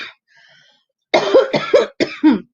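A few harsh coughs in quick succession, loud and close, after a faint breathy pause, with no talking.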